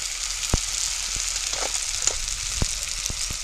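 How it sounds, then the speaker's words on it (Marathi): Tomatoes sauté in an oily pan with a steady close hiss of frying, broken now and then by small sharp pops and the light scrape of stirring. "टमाटर आपलं चांगलं मस्त परतून झालंय."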